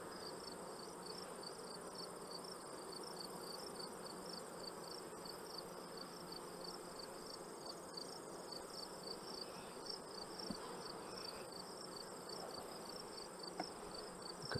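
Honeybees hum steadily around an open hive, a continuous close, even drone of many wings that lasts throughout with no talking.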